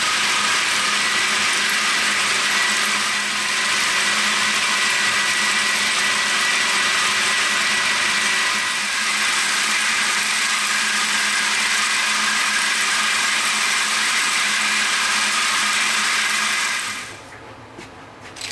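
A vibratory deburring machine tumbles and polishes metal logos, giving a steady, loud, dense churning rattle with a constant mechanical hum that runs unbroken until stopping near the end.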